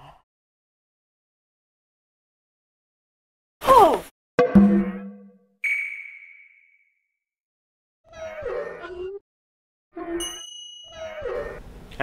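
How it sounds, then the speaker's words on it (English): Sparse percussive video game theme music for a giant named Bot: isolated metallic dings, clangs and a bell-like tone, then muffled groaning knocks, separated by silences, with no talking. "The giant named Bot has got his own little theme. It's some curious percussive sounds."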